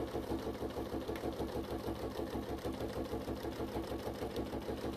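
A sewing machine runs steadily while stitching a bag, its rapid, even needle rhythm close and continuous, with a low motor hum underneath and nobody speaking.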